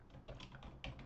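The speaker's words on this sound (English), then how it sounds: "we're going to type into the search bar" Fingers type on a computer keyboard in a quick run of about five or six close, soft keystrokes lasting about a second, with no speech.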